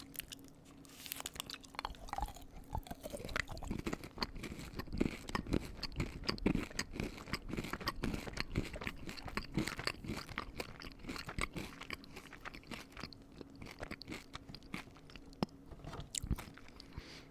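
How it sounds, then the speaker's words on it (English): Close, steady chewing and crunching of a Feastables Milk Crunch chocolate bar, with repeated wet bites and crisp crackles over a long stretch and no talking. "Yeah, that tastes like a milk chocolatey to the fucking moon kind of crunch bar."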